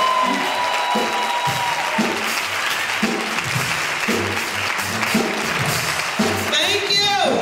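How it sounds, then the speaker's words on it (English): A church comedy crowd applauds for a comedian, with steady, dense clapping carrying on throughout at moderate distance, while a host talks over it in bursts. "Give her a round of applause."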